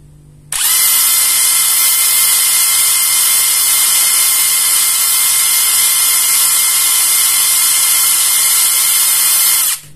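A Kamolee DTW 700NM impact wrench with a rewound motor runs unloaded, starting abruptly and holding a loud, steady high-pitched whine for about nine seconds before cutting off.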